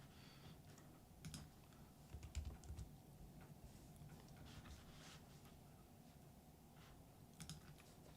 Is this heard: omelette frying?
no